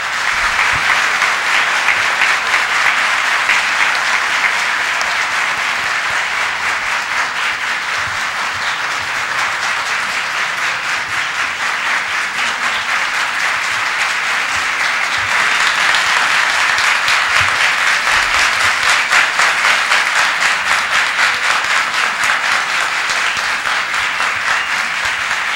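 Sustained applause fills a municipal council chamber during a special session, a dense, steady wash of many hands clapping at close range that carries on unbroken without letup.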